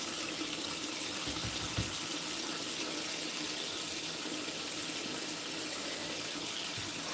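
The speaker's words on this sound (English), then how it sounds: "Empty my sink drainer." A kitchen sink drainer emptied beneath a running tap, with a loud, steady rush of water hissing into the basin throughout and a faint clunk partway through.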